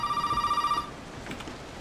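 A telephone rings in the horror video game Resident Evil 7, several bright electronic rings in a quick pulsing pattern that stop after under a second, leaving quiet room tone.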